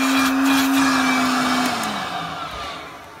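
A Dyson vacuum cleaner with its hose attached whines steadily, its motor tone sliding slightly lower as it fades toward the end.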